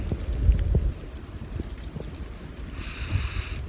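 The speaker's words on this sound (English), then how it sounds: "This wind's been whipping around in all directions today." Gusting wind buffets the microphone on an exposed mountainside, a steady low rumble with uneven surges and faint distant hiss, no voices.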